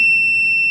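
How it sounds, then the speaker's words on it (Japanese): Steady, loud electronic alarm tone sounding continuously on its own, set off while a lead-acid battery is being charged at raised voltage. "警報が鳴ってしまいましたね。"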